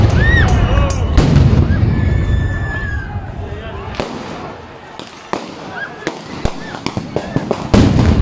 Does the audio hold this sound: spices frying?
no